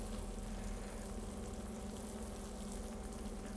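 Crustless pizza ingredients sizzle and spit in a pan over medium-high heat, a steady, fairly quiet hiss with a low hum underneath and no talking.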